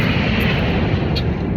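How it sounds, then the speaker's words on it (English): United airliners pass overhead with a loud, continuous jet-engine roar that stays steady, and no voices are heard. "There are some planes."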